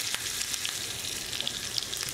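Steady, faint sizzling and crackling of mustard seeds and chopped green chili in hot oil, a continuous hiss with small pops, no voices.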